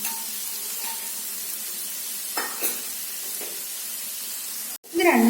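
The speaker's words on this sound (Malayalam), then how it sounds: "നമ്മുടെ ഉള്ളി ഒന്ന് ചെറുതായിട്ട് ഗോൾഡൻ കളർ ആകുന്നത് വരെ നമുക്കൊന്ന് വഴറ്റാം" Onions sautéing in a pan until golden, a steady hiss of sizzling with a few stirring scrapes and a louder clatter at the end.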